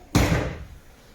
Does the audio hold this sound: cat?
no